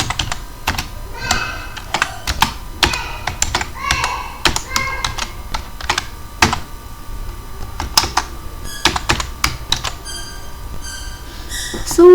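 Code is typed on a computer keyboard in quick, uneven bursts of close, crisp key clicks, continuing steadily for about twelve seconds over a faint background hum.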